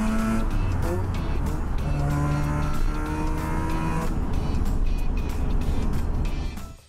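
A 37-year-old blue-pink Mazda RX-7 SA driven on the street: a loud, steady engine note with rising and falling harmonic tones through gear changes, close and continuous, fading sharply at the end.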